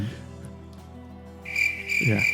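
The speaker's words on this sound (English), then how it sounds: "Usually I get crickets, man." A crickets chirping sound effect sets in partway through as a steady, shrill, pulsing trill that grows louder and continues to the end, following a brief quieter stretch.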